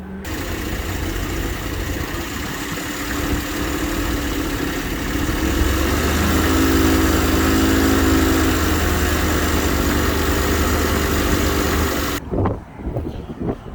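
A 1989 Pontiac Trans Am GTA engine runs on its own while Seafoam is sprayed into the throttle body. It makes a loud, steady, close engine drone that swells slightly midway, then cuts off abruptly near the end, with no talk.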